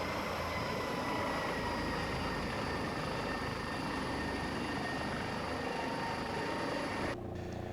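An MD902 NOTAR helicopter autorotating in Microsoft Flight Simulator 2024 gives a steady, dense rotor and airflow drone that holds throughout, then cuts off abruptly near the end.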